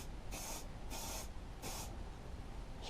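Three soft bursts of heat-resistant aerosol paint hissing from a spray can, each about a third of a second, with quiet pauses between.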